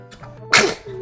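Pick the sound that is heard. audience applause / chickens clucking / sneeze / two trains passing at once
sneeze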